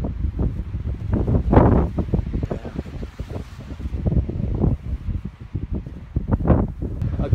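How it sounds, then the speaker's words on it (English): Strong wind gusting around a snowy mountain shelter, buffeting the microphone in loud rumbling bursts that swell and fade irregularly throughout, close and rough. "the wind is blowing like crazy"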